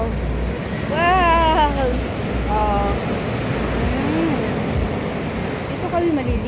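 Strong sea waves crashing on a beach where people swim, a broad continuous roar of surf swelling and easing, with voices and an exclamation heard over it.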